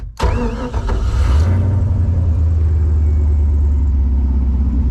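An LS-swapped drift car engine, not started in about a year, cranks and catches, then settles into a steady, loud idle that rumbles on close by.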